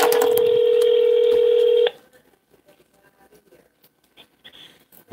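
Telephone keypad dialing tones from a cell phone, a steady loud tone lasting under two seconds and then cutting off, leaving faint background rustle.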